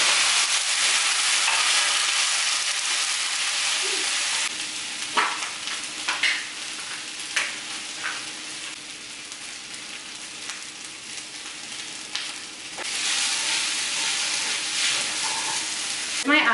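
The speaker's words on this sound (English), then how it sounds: "I'm just gonna put a bunch of kimchi in the pan to like kind of fry up" Kimchi sizzles and crackles as it fries in a pan, a steady broadband hiss broken by occasional louder pops and stirring clicks, with no one talking.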